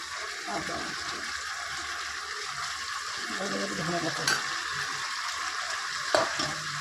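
Fish dropped into hot oil in a pan, sizzling and frying as a steady close hiss with small crackles and spatters throughout.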